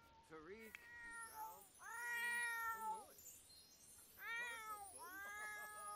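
Cats meow repeatedly in The Sims 4 game, with several drawn-out, rising and falling calls heard close and clear over a faint background.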